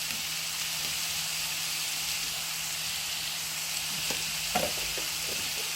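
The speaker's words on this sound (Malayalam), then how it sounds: "ഇതൊന്ന് ഒരിച്ചിരി കൂടി ഇട്ടിട്ട് നമുക്ക് ഒന്ന് വഴറ്റിയെടുക്കാം" Vegetables for veg fried rice sizzle in a hot oiled pan, a steady hiss throughout, with a few stirring scrapes and knocks toward the end.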